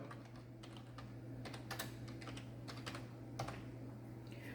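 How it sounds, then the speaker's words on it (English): Quick, light keystrokes tapped out on a computer keyboard in short irregular bursts, close and fairly quiet over a steady low electrical hum, with no voices. "here in the keyboard I am going to type hello world"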